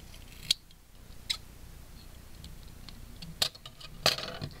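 Scissors snipping off excess duct tape, a few sharp isolated clicks spaced a second or more apart, close and crisp over a quiet background with light handling rustle.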